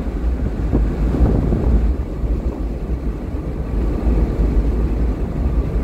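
Loud, steady buffeting wind roar fills the cabin of a 2023 Mazda MX-5 GT rental car driving with the windows down, a constant low rumble with no talk.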